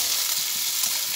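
Onion frying in a pan for moong dal khichuri gives a steady, close hiss of sizzling oil with faint stirring scrapes, continuous and alone for about a second.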